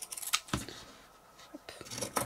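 Scissors snip through a fabric cord while sewing a storage pouch for cloth face masks, giving several short, crisp close-up cuts with quiet pauses between them.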